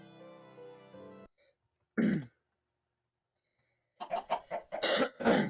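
A person close to the microphone clears their throat and coughs in short, harsh bursts separated by silence, with a brief steady tone at the start.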